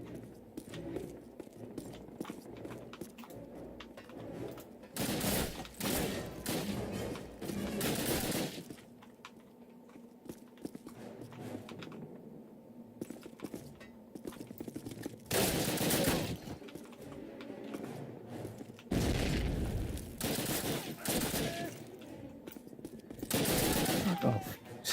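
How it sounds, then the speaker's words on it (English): Gunfire in the video game Call of Duty comes in loud clusters of rapid automatic shots, with quieter stretches of game sound between the volleys. "When I shoot you, you bloody go down."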